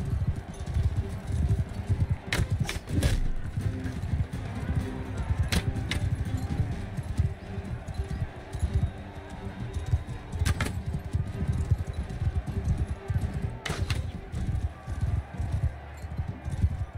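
Horse hooves galloping in the Mount & Blade 2 video game, a steady rapid clip-clop running throughout amid battle noise, with occasional sharp clashes standing out.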